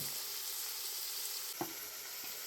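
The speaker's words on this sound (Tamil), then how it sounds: "தக்காளி வந்து பார்த்திங்கன்னா நல்லா வதங்கட்டும்" Chopped onions and tomatoes sauté in a pan for a green pea gravy, giving a steady soft sizzle with a brief stirring scrape near the end, heard alone and fairly quiet.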